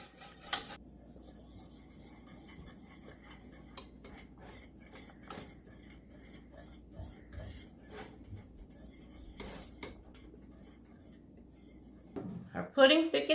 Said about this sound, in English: You have to keep whisking this until it comes up to a boil